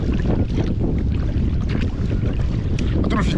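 Steady headwind buffets the microphone while sea kayaking off the west coast of Scotland near Moidart, a loud continuous roar of wind noise with water and boat sounds mixed in close by.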